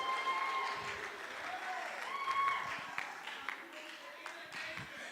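A school student showcase audience breaks into sustained applause as a child joins the stage, dense clapping filling the hall and slowly tapering off.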